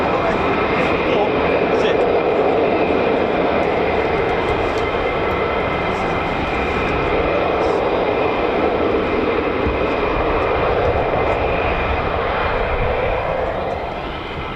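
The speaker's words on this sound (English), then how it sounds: "Definitely F-35s now." F-35 fighter jets at RAF Lakenheath give a loud, continuous jet roar that holds steady for the whole stretch and fades slightly at the very end, with voices talking over it.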